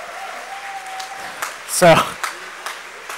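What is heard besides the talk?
crowd cheering and applauding after tournament final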